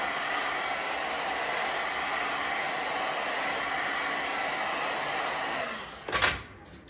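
A hot air tool blows a steady, loud broadband hiss against the back of an iPad during battery replacement, holding constant for about six seconds before cutting off with a brief clunk.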